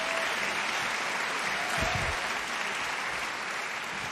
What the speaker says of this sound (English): That's for Bergman, the applause